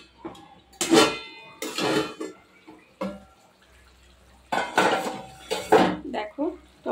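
Metal lid lifted off a cooking pot of spicy kakrol curry, with clanking pot and utensil knocks in several bursts and a voice talking in between.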